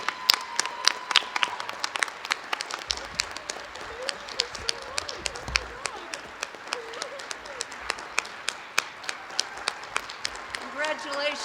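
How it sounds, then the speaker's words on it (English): An audience claps for the finalists at a state poetry recitation competition, the applause coming as a steady crackle of many hands in a hall. A voice speaks over it partway through. "we need to give them a round of applause"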